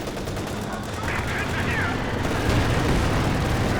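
Heavy mortar shell striking in Company of Heroes 2, a deep game explosion rumbling among continuous gunfire and battle noise throughout, loud and dense with no clear single break.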